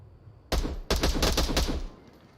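Bursts of gunfire in the Onward VR shooter, a sharp loud volley followed by a rapid string of close shots that tails off after about a second.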